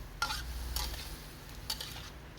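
Boiled cabbage and broccoli stir-fried in a pan for a short while, a few faint scraping stirs over a low hiss, alone and fairly quiet.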